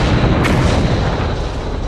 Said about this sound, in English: that was a damn good explosion